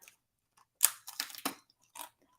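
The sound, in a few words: crunching on beef jerky crisps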